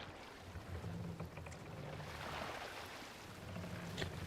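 A sailing boat crosses waves in Assassin's Creed Valhalla, with a steady wash of water and wind and soft creaks and splashes throughout.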